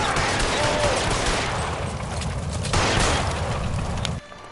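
Loud, continuous gunfire in a shootout in the game LA Noire, a dense rattle of rapid shots that carries on steadily and then cuts off abruptly near the end.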